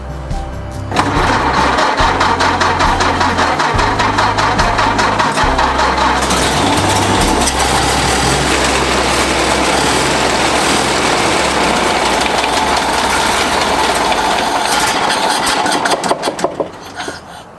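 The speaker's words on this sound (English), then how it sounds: "I think she's gonna fire up, so let's give her a shot." A 1930 Ford engine, cold and unrun for years, cranks and catches, then settles into a steady, loud running idle that continues for most of the clip before cutting off.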